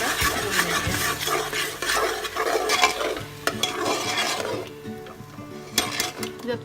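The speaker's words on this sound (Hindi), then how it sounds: "ये जो हमने प्याज और अदरक और लहसुन का मसाला पीसा है वो डाल देंगे। और इसको अच्छे से लाल होने तक थोड़ा भून लेंगे" Ground onion, ginger and garlic paste fries in a pot for chicken biryani, stirred busily with a spoon, making a dense close sizzle broken by scrapes and metal clinks, easing off briefly near the end.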